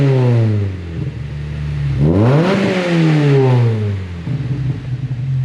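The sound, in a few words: car engine revving with Fab9 Elite intake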